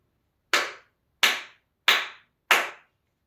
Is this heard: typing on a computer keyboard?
no